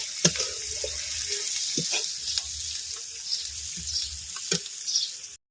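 Onion, garlic, cinnamon, cardamom, cloves, green chilli, panch phoron and bay leaf fry in a pan with a steady close hiss, broken by several sharp stirring scrapes and clicks, with no voices.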